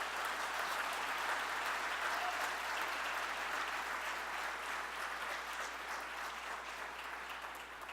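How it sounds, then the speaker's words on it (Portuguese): A church congregation applauds during a service, a dense, even wash of clapping that stays fairly distant and soft and fades slightly toward the end, with no speech over it. "aplauda o Senhor bem forte"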